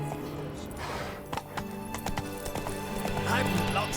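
Roach, a horse in The Witcher 3, trots with a steady, fairly close clip-clop of hooves under a game soundtrack, with a voice speaking over it.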